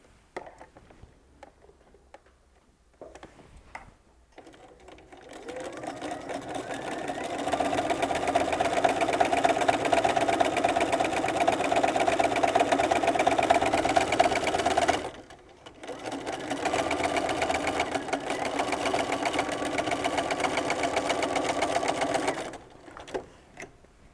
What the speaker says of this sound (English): now I'm going to sew that using a 1/4 inch seam all the way down